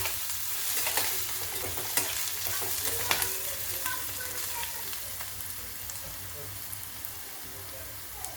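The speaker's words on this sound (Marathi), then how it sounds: "आपला कांदा गोल्डन फ्राय होत आलेला आहे" Sliced onion fries in hot oil with a continuous close sizzle and occasional stirring clicks, while someone speaks softly over it.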